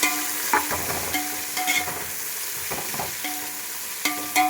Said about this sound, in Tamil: ஆனியன் போட்டு நல்லா கிளறி விட்டுலாம்